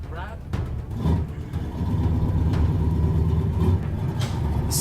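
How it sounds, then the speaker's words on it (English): A race car engine cranks and catches, then settles into a steady, loud low rumble with scattered mechanical clatter, presented as a stock sound effect. "Nothing special, just your cheesy race car starting up."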